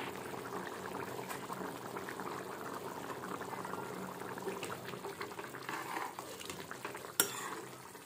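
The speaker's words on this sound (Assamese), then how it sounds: "মাংসখিনি প্ৰায় 5 মিনিটমান সময় মই উতলিব দিছোঁ।" Meat curry with salt, chilli and garam masala bubbling steadily in a pot, a close continuous boil with soft stirring and one sharp clink near the end, no talk.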